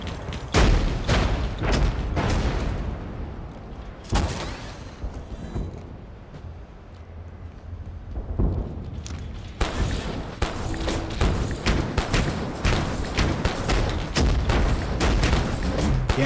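Dense, rapid bursts of sci-fi laser weapon fire in the video game Abiotic Factor, loud and nearly continuous with booming thuds, a brief lull in the middle before the barrage resumes.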